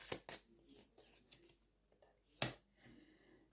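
Tarot cards cut and handled for a cartomancy reading, giving a few sharp papery snaps and slaps, with one loud crisp slap near the end and soft rustling between, fairly close and quiet.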